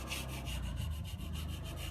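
A metal scraper rasps back and forth over soft old gasket material on a Cub Cadet Model 149 engine, making a steady series of close, gritty strokes with no talking.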